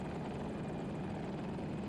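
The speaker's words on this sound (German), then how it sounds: "Wie hat dieser Helikopter das überlebt?" A helicopter in a video game, a Super Hokum attack helicopter on the Orbital map, drones continuously with a loud, steady rotor and engine roar and no voices.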